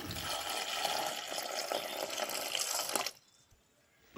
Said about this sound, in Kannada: ತೊಂಡೆಕಾಯಿ ಮುಳುಗುವಷ್ಟು ನೀರು ಹಾಕಿ